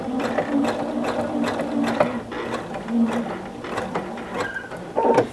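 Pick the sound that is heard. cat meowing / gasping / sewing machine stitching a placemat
sewing machine stitching a placemat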